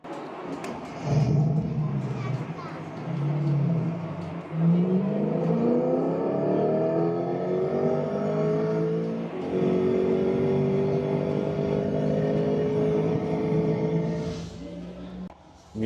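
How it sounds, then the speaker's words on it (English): A Chevy V8 engine on display revs in several rising, falling pulls, a deep throaty roar climbing in pitch and easing back down, fairly close and moderately loud. "Let's see what the Chevy V8 sounds like."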